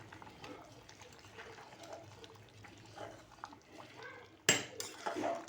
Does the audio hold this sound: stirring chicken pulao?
yes